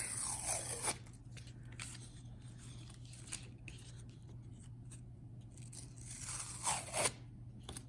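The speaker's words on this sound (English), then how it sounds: "So we do need to remove the contact paper from our earring." Contact paper being peeled off the back of a leather earring, giving a crisp tearing crackle at the start and again near the end, with quieter rustling between over a steady low hum.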